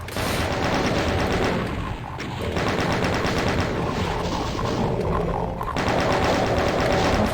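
Sustained rapid automatic fire from a plasma rifle in a video game, a loud, dense stream of shots with only brief gaps, heard on its own.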